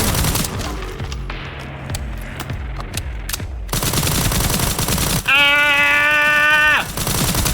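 Magnum gunfire in the video game Resident Evil Requiem: a loud, rapid series of close shots with booming reports, followed by a sustained harsh burst and a strained tonal wail.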